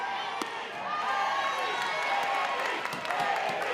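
Fans at a college softball game cheer and clap after a home run, calling for a curtain call. The crowd roars steadily at moderate distance, with claps and whistles cutting through.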